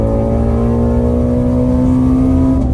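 A Ford Mustang GT350 engine roars loud and steady at full throttle and high revs, its pitch holding nearly constant and rising slightly toward the end.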